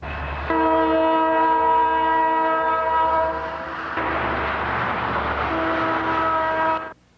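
A local freight train bound for Canton passes near the blimp hangar in Akron, sounding a loud, sustained chord horn for nearly seven seconds over a steady low rail rumble, then cutting off.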